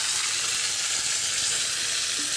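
Curry leaves dropped into hot oil for tempering vegetable khichuri hiss in a loud, continuous sizzle close to the pan, with no talk over it.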